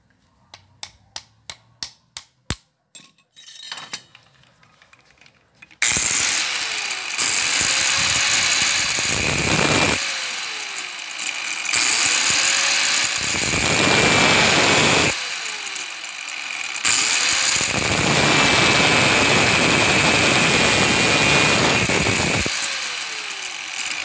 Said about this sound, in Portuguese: vai passar uma broca de 5 mm pra abrir rosca